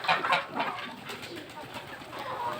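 Domestic birds, ducks and chickens, clucking and cooing together in a cluttered backyard coop, a close, continuous chorus with no talk.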